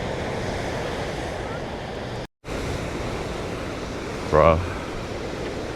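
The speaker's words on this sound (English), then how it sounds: "let's have a tour of Bronte Beach" Ocean surf breaks and rushes at Bronte Beach on a hot day, a broad steady wash mixed with wind on the microphone, with a brief voice partway through.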